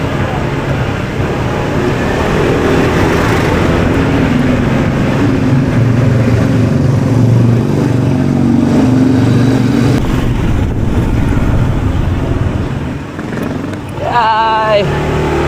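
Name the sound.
motorcycle riding on the road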